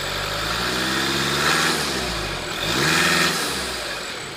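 A 2015 Volkswagen Jetta TDI diesel engine idles steadily, then revs twice in quick succession, each burst rising and falling, loud and close with no talking.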